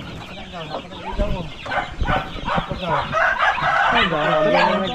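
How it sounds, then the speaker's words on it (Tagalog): Many chicks peep in rapid, high chirps near the microphone, mixed with adult chicken clucks, while a person talks over them. "Ang dami ko lang sisiw dito."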